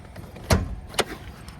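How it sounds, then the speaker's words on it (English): Hood release and latch on a 2022 Mitsubishi Outlander give two sharp mechanical clunks about half a second apart, close and fairly quiet, with no talking. "Let's open the hood."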